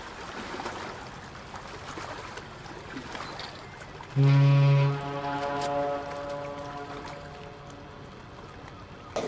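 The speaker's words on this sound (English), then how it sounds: "This next one is actually a steam whistle." The steam whistle of the ship American Victory sounds once on the St. Mary's River, loud and steady for under a second, then holds more softly for a few seconds over faint outdoor background noise.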